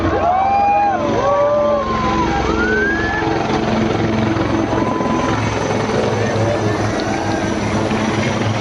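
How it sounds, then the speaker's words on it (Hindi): Apache and LCH Prachand military helicopters in diamond formation thunder overhead with a steady loud rotor roar, while distant whistles and cries carry faintly over the din. "मंच के बाईं तरफ डायमंड फॉर्मेशन में अपाचे और LCH प्रचंड कमान संभाल रहे हैं"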